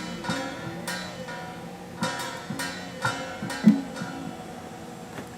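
Tremolo springs on a Godin Radium X electric guitar with the back plate removed, creaking and ringing in a string of distinct metallic pulses among lingering guitar tones, close and fairly quiet with no voices.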